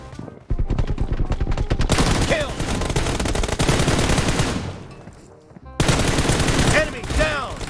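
Gunfire from a weapon in the mobile battle-royale game PUBG Mobile: dense, rapid automatic bursts that run nearly continuously, loud and close, with a brief dip before a fresh volley of shots near the end.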